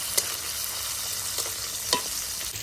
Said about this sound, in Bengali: মাছগুলিকে আমি উল্টে পাল্টে ভেজে নেব।